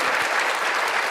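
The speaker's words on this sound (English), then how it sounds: "Let's give him a round of applause." A church congregation at a Sunday baptism service bursts into loud, dense applause, a steady close roar of many hands clapping with no pauses.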